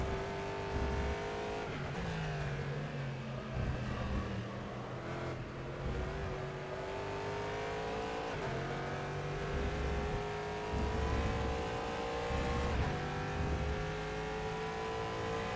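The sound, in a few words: race car engine in video game rFactor 2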